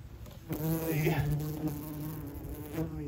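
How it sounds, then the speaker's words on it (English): Wasps buzz steadily and close around a ground nest outdoors, a continuous droning hum with a few louder swells as insects pass near. "And you see, we got another wasp in there."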